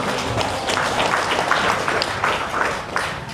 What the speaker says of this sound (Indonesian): kita pada tepuk tangan dulu Ibu Bapak nuhun